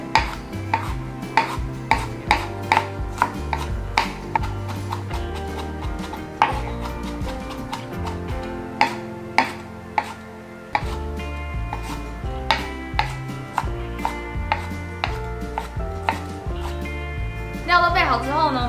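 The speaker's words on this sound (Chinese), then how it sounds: "我们把老姜跟白木耳切成末状" A knife chops ginger and white fungus into mince on a board, giving a long run of sharp, irregular close taps that sometimes speed into quick bursts.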